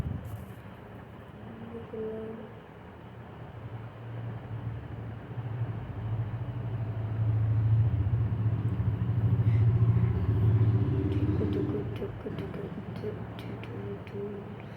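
A Toyota Fortuner rolling along with a low, steady engine rumble that swells louder through the middle and then eases off, heard from close by with faint road noise.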